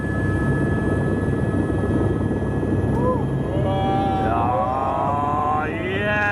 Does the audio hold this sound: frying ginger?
no